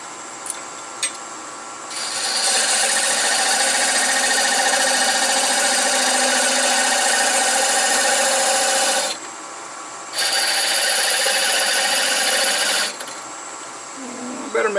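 A lathe parting tool cuts a groove in a bottle opener workpiece, giving a loud, sustained scraping hiss that pauses briefly twice. Faint clicks come before the cut.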